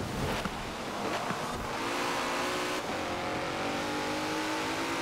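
In Forza Horizon 4, a car drives on a wet road with an all-wheel-drive engine revving and roaring steadily. Tire hiss and spray run beneath it throughout, loud and close, with no voices.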